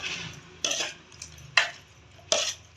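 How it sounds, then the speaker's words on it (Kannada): Muskmelon being mashed with a hand masher for juice: three distinct squelching, scraping strokes spaced about a second apart, close and fairly loud, with no talking. "ಈ ಥರ ಮ್ಯಾಶರಲ್ಲಿ ಮ್ಯಾಶ್ ಮಾಡಬೇಕು"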